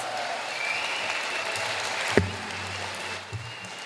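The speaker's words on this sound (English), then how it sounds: "Let's give him another big round of applause." Applause fills a room at a 50th anniversary gala in St. Louis, a steady wash of clapping with a sharp knock partway through, heard from within the crowd at moderate level.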